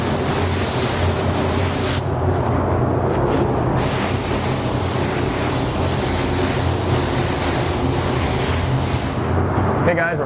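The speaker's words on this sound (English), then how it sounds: "So I'm going to stop talking and start spraying." A spray gun spraying paint onto a surfboard hisses loudly and continuously, with brief pauses in the spray, over a low background hum.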